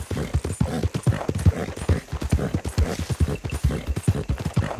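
Horse hooves clip-clop steadily in Red Dead Redemption 2 as a mount trots along near a new area of the map, a brisk even rhythm of close, fairly loud hoofbeats with no talk over them.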